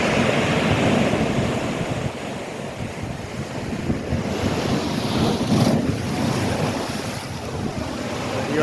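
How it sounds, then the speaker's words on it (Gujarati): Rough sea waves at high tide surge and crash continuously along the shore at Daman, a loud, broad roar with wind buffeting the microphone and no talking. "દરિયાની ભરતી આજે બહુ જોરમાં"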